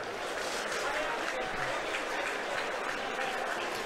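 A stadium crowd at a football match applauds a Ruch player, with dense, continuous clapping spread evenly across the whole stretch and heard at a fair distance.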